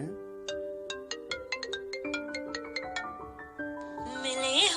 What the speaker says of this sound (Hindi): लेटेस्ट रिंगटोन में इसमें सब है ट्रेंडिंग वाले